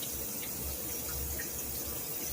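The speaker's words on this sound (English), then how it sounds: "wash your hands very good with hot water" Hot tap water runs steadily from a faucet into a sink for hand washing before tattooing, a continuous close broadband splashing and hiss with no voices.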